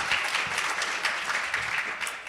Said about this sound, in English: I see we've gotten to a rhythm of applauding after each response